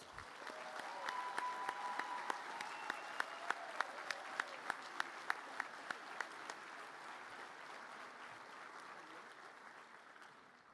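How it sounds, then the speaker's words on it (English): Audience applause for School of Business graduates at a college commencement ceremony, a steady, even roll of many hands clapping that carries throughout at moderate volume, with a few sharper individual claps standing out in the middle. "Let's give our School of Business graduates another round of applause."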